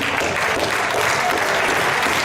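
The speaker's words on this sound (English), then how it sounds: "Give yourself a very, very, very big round of applause, ladies and gentlemen." An audience claps continuously, a dense, even wash of applause sustained from start to finish.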